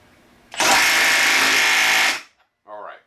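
A Milwaukee M12 Stubby impact wrench on a small battery in mode 3, its highest-power setting, hammers loud and close for about one and a half seconds as it tightens, then stops, followed by a short burst of speech.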